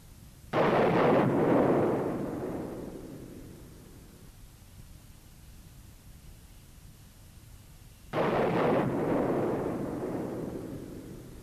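The ejection system on a Sukhoi military jet blows the canopy off: two loud, sudden blasts several seconds apart, each fading into a long, rushing roar, with no voices.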